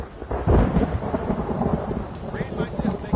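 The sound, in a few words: thunder and heavy rain in Red Dead video game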